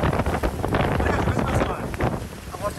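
Strong typhoon wind roars and buffets the microphone continuously during a storm in Taiwan, a dense, loud rushing with gusts, with faint voices partly beneath it.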